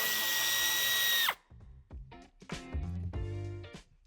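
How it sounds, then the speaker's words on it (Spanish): Power drill whirring loudly as it backs a screw out from under a trim molding on a 2019-2022 BMW X7 G07 bumper, a steady high whine that winds down abruptly, followed by faint clicks and handling noises. "Quitaremos el tornillo"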